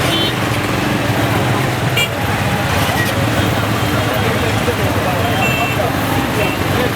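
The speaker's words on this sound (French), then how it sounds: "Des camions, motos et piétons traversent difficilement." Busy city street traffic in Butembo, with trucks, motorbikes and pedestrians crossing: a constant loud roar of engines with scattered horn toots and background crowd chatter.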